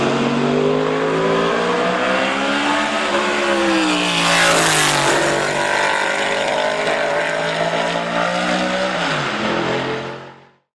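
Chevy Monza race car with a heavily modified Chevrolet 5.7 to 6 liter small-block V8 fed by four Weber downdraft carburetors, revving loud and close with rising and falling engine pitch, then cutting off abruptly at the end.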